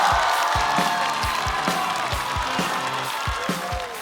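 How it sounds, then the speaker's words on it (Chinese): Applause and cheering from a stand-up comedy show audience greet a comedian as he takes the stage, a dense wash of clapping with loud low thumps repeating steadily throughout. "掌声欢迎杨仔儿"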